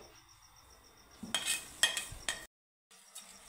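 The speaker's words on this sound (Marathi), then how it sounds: "ही केळी आणि पीठ आपण व्यवस्थित असं एकजीव करून घेऊ" Stirring mashed banana with flour and coconut in a pan for banana barfi: a cluster of scraping, clinking spoon strokes, then a brief dead silence and a faint resumption over a high steady ringing hum.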